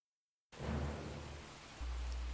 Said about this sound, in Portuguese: Caraca, tá chovendo demais, mano.